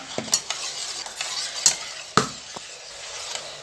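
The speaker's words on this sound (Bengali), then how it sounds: "স্বাদ অনুযায়ী নুন গুলাও" A metal spoon scrapes and clinks against a pan as salt is stirred into frying prawns. The taps come irregularly over a steady sizzle, close and fairly quiet, with no talking.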